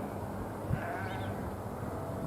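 Sheep bleat faintly from a mountainside near Silverton, Colorado, a few thin wavering calls rising over a steady outdoor background rumble, distant rather than close.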